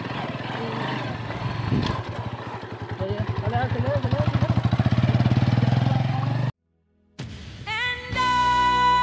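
A motorcycle engine idles with a steady throbbing putter that builds and rises as it revs, then cuts out briefly before restarting near and loud, with voices talking over it.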